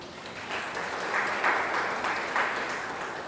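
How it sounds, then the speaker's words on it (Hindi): An audience at a spiritual meditation class in Pune breaks into applause, a moderately loud, steady patter of many hands that swells slightly and then holds. "ताली तो बजाओ।"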